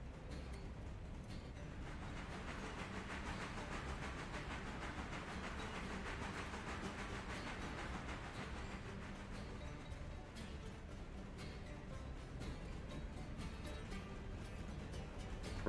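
Train running in the video game Railroader, a faint, continuous rumble with hiss and soft rhythmic wheel clatter that stays steady throughout.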